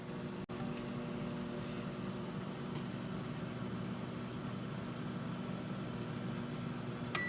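Home oven running while baking cookies, a steady low humming drone with faint fan noise, quiet and unchanging, with a soft click near the start.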